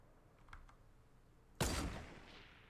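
Gunshots in Fortnite Battle Royale: a couple of faint, distant pops, then one louder blast that rings out and fades away.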